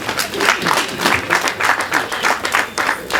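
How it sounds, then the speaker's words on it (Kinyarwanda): A crowd applauds, steady dense clapping that swells and continues without pause, fairly loud and close. "Amashyi menshi cyane."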